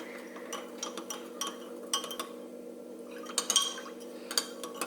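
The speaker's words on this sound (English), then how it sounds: "I'm just going to continue to stir this up until it's nice and mixed" A spoon stirring elderberry syrup in a pot, giving light metallic clinks and scrapes at an irregular pace, close and fairly quiet.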